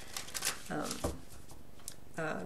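Tarot cards being shuffled by hand, a few quick close riffling bursts, quiet and brief.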